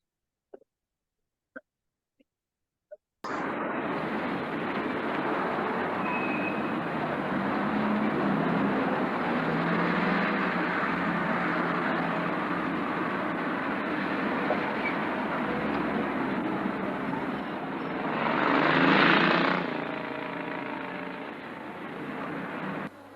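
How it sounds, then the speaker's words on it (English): Street traffic in Broadgate, Coventry, a steady wash of passing vehicles that rolls on for about twenty seconds after a few sharp clicks, swelling briefly as one louder vehicle goes by. "Whilst you've been listening to the traffic in Broadgate"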